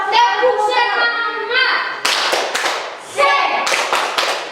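A school class performs a rhythmic clapping cheer in unison, with bursts of sharp claps alternating with children's chanted voices, fairly close and loud inside a classroom.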